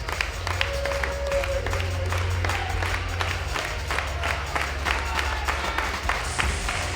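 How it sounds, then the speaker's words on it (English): Wrestling fans at an All-American Pro Wrestling Collision event at Black Diamond Harley-Davidson clap and cheer steadily, a dense crowd roar with rhythmic claps throughout, with some voices mixed in. "Fans chanting and cheering, waiting for his arrival here at Black Diamond Harley-Davidson"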